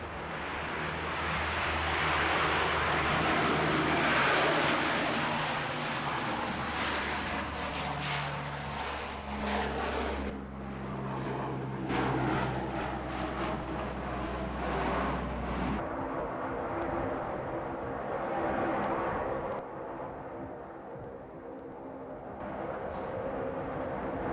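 RAF C-130 Hercules transport aircraft engines at an air display at Leeming, a loud, steady turboprop drone and propeller roar that holds throughout, shifting in tone partway through as the aircraft gets underway.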